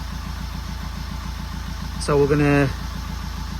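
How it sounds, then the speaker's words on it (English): A Fiat 500 engine idles steadily after finishing its DPF regeneration, a low rhythmic pulsing hum close by that continues under a brief spoken phrase. "engine sound, it's gone down a couple hundred revs, it's finished its regen"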